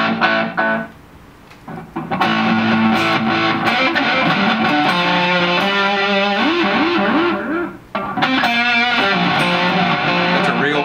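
Electric guitar played through a Mooer Reecho delay pedal set to a slow echo, sustained notes and bent phrases ringing out with audible repeats trailing behind, loud and close, with a brief drop to near silence midway.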